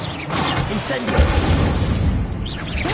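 A fire spell erupts in a wizard video game, a loud, crackling, rumbling blast with shattering debris and low booms running through the whole moment.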